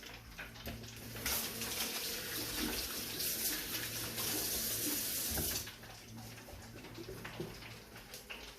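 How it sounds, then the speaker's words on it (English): Hands being washed under a running kitchen tap while frying beer-battered cod, a steady close splash of water that swells for several seconds then eases to a quieter trickle, with no talking. "I'll wash my hands."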